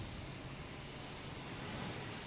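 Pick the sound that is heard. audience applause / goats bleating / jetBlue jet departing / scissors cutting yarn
jetBlue jet departing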